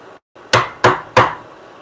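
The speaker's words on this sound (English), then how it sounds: "let's get this mortise chisel out and the bigger mallet" Three sharp, evenly spaced blows of a large wooden mallet on a mortise chisel cutting into wood, each crack close and loud with a short decay, following a brief quiet moment.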